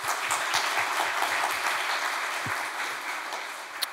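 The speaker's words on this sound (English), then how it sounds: "So please give her a nice round of applause." An audience claps steadily in a room for a few seconds to welcome a guest at a talk with award-winning chefs, the applause even and moderately loud throughout.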